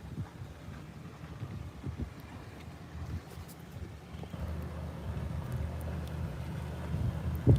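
Boat near a beach with steady low rumble and wind buffeting the microphone, a continuous moderate wash of low-frequency noise that slowly builds louder toward the end, no voices.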